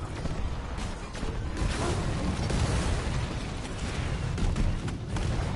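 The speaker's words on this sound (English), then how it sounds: "Run for cover! Grenades! Grenades! Grenades!" Grenade blasts in a combat video game, a dense, continuous rumble of loud booms and bursts that fills the whole stretch with no pauses, heard alone with no voices.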